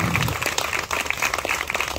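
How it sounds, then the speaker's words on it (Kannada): Audience applause for a dance performance at a Save Soil programme in Sahakar Nagar, Bengaluru: dense, steady crowd clapping that holds for the whole two seconds at fairly high level. "ಇವ್ರಿಗೆ ನಿಮ್ಮ ಜೋರು ಚಪ್ಪಾಳೆ ಮೂಲಕ ಅಭಿನಂದನೆಗಳನ್ನ ಸಲ್ಲಿಸ್ತೀನಿ"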